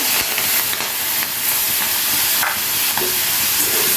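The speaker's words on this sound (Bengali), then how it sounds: "হালকা লাল করে ভেজে নিলাম চিংড়ি মাছের বডিগুলোকে" Prawn heads, tails, legs and shells fry in a little oil with turmeric and salt, giving a loud, close, unbroken sizzle and hiss with faint stirring scrapes and no speech.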